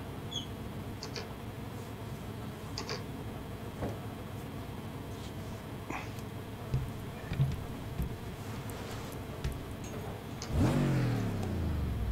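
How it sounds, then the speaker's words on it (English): Simulated race car engine in iRacing during a 24 Hours of Nürburgring endurance practice, a steady droning motor running throughout with a few brief surges and a louder rising rev near the end. "Engine audio is too loud."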